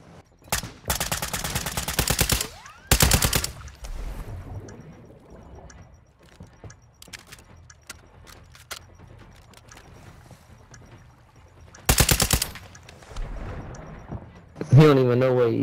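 Loud gunfire in Call of Duty comes in sharp bursts near the start and again around twelve seconds, with quieter shots and game sounds between and a voice talking at the end.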